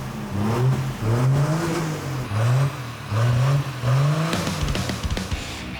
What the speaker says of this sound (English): So you start bringing in the RPM, and all of a sudden it just comes alive, the whole truck lifts.